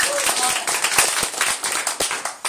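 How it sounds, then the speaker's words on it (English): An audience at a clean-energy fundraiser claps over about two and a half seconds, with dense, fairly loud hand claps and some voices mixed in. "It is worth clapping for that."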